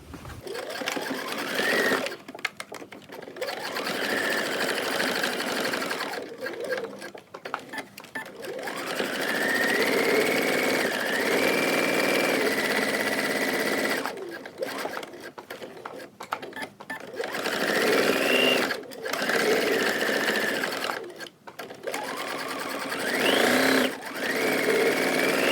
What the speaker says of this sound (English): we could do a top stitch all the way around here